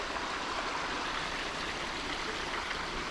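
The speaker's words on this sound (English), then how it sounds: "There's a little river down here." A small river flows steadily beside a wooded creek trail near Ladysmith, British Columbia, giving a constant broadband rush of moving water, close and even, with no voices.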